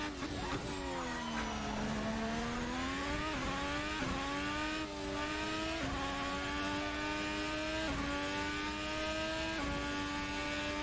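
A Formula 1 car laps the French Grand Prix circuit, its high engine note climbing and dropping repeatedly through gear changes in a loud, continuous run of revs.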